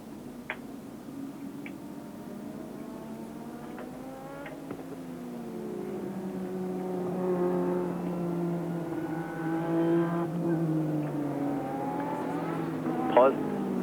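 Formula 1 cars from 1986 on a slow formation lap at the Austrian Grand Prix, their engines droning with rising and falling pitch as several cars pass at moderate distance, with a continuous layered mechanical hum.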